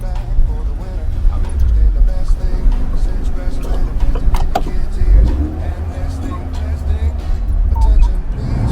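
Fiat car with an oil leak driving along an open road in Spain, steady loud engine and road rumble heard from inside the car, with a person talking over it throughout.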